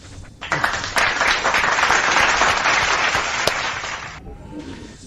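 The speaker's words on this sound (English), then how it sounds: "Let's give a big round of applause to everyone who made it in the chat today" Applause from a crowd, a dense burst of clapping that swells and holds for about four seconds, loud and close, then stops abruptly.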